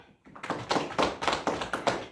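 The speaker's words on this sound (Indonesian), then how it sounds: "Tepuk tangan dulu yuk" A group of children in a classroom claps hands in a quick, steady rhythm, about a dozen sharp claps close by with no talking.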